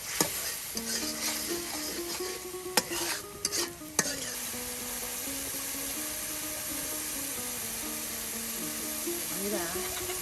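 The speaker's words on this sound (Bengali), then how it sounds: "মরিচের গুঁড়া, হলুদের গুঁড়া, তার সাথে এই দেখুন আর কিছু পরিমাণ লবণ দিয়ে কিন্তু ভালো করে একদম পেঁয়াজের সাথে মশলাটাকে একদম তেলের সাথে কষিয়ে নেওয়া হচ্ছে" Onion with chili powder, turmeric and salt fries in oil while being stirred, a steady sizzle with occasional scraping knocks, running beneath a person talking.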